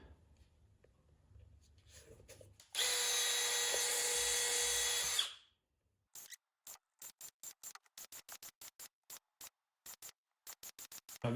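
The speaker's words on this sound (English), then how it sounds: "I'm going to pilot these with a 1/8 inch bit" Power drill boring a 1/8 inch pilot hole into a rubber go-kart tire, one steady high whine lasting a couple of seconds before spinning down, followed by a quick series of clicks and taps.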